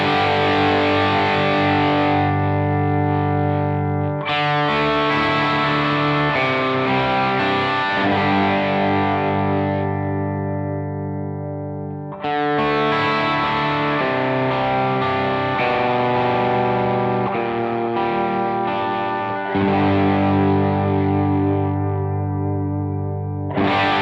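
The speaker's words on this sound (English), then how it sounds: "let's have a look at the KLON side of the pedal." Sustained electric guitar chords played through the KLON-style overdrive side of a Beetronics Wannabee dual drive pedal into a Dumble-style amplifier. The tone is thick and distorted, with chords ringing out and changing about every eight seconds, loud and alone with no speech.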